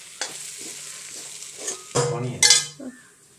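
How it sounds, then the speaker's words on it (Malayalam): Chili powder and coriander powder are stirred in a pan for a beef curry. Scraping spatula strokes come close and clear, the strongest passes near the end, alongside a light frying sizzle and a small clink of metal. "പൊടികളെല്ലാം ചേർത്തതിന് ശേഷം നല്ലപോലെ ഇളക്കി കൊടുക്കണം"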